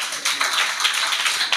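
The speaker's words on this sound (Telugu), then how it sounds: "గట్టిగా చప్పట్లు." Loud applause from an audience at a church youth meeting, a dense, steady wash of clapping lasting a moment and a half, with no voices.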